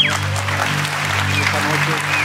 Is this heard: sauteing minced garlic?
no